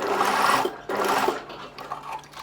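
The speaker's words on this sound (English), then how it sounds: "Just sewing up and down a couple of times to make it nice and secure" A sewing machine runs in quick bursts, stitching a narrow overlapping seam in elastic for a slip, buzzing close and loud with short pauses between runs.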